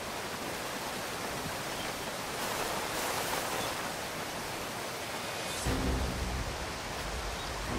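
Steady rushing water from a waterfall in the Call of Duty Ghosts video game, a continuous broadband roar at moderate level with no talk, briefly shifting in tone near the end.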